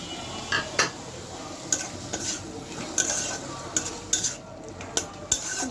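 A spoon stirring and scraping a spice paste of garlic, ginger, coriander, turmeric and chili powder in a pan, with light sizzling and irregular sharp clinks against the metal, fairly quiet and close.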